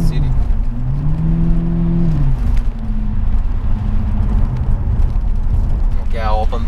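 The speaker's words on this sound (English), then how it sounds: "You can drive it like this, even with open cutoff valve outside the city." A BMW 745i E65 V8 with its exhaust cutoff valve open drives along outside the city, a steady low engine drone with rising and falling revs, loud and continuous under faint background noise.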